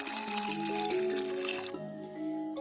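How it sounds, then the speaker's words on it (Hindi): Water pours steadily into a pan holding dried plums, a soft trickling splash that changes pitch as the pan fills, then cuts off near the end. "और अब हम इसमें पानी ऐड करेंगे"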